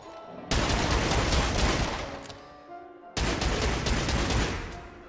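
Two loud, heavy gunshot blasts from a revolver in the VR game Rush, each a sharp boom followed by a long rumbling decay, spaced a few seconds apart.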